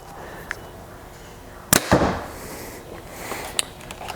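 A compound bow, a Prime Black 5 or CT5 with a string stop, fired once at close range: one sharp snap with a brief thump and ring that dies quickly, then quiet.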